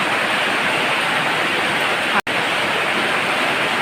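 Steady rain pours onto a house roof, a dense, continuous hiss with no break except one momentary dropout partway through.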